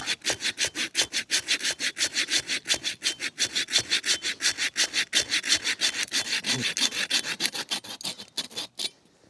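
A small saw cuts through a dry, cracked Shine Muscat grapevine stem in quick, even back-and-forth strokes, a close, raspy woody scraping that continues steadily for several seconds before stopping.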